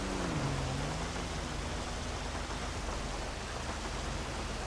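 Rain in the video game GTA 5 makes a steady broadband hiss throughout, with a low engine-like hum briefly audible near the start, and no talking.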